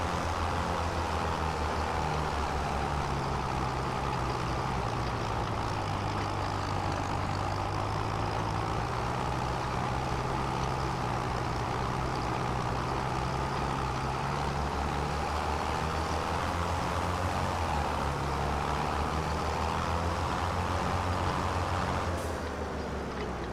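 A tractor engine in Farming Simulator 25 drones steadily while driving across a field, a constant low rumble with a broad, loud hum throughout and no pauses, ending with a brief click near the close.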